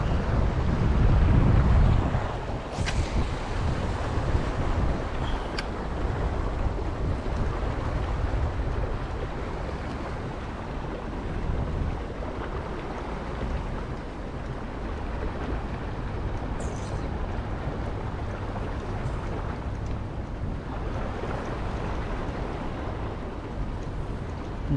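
Strong sea current and waves on open water during a yellowtail fishing trip from a boat, a steady loud wash of water with heavy wind buffeting the microphone throughout.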